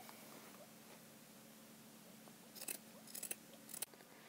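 Scissors snip through old fabric for a no-sew doll outfit, three or four short crisp cuts near the end after a quiet stretch of faint room hiss.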